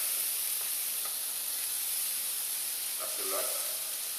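Apple and pear pieces sizzle in melted butter in a pan for crepe topping, a steady loud hiss throughout with a brief voice speaking near the end.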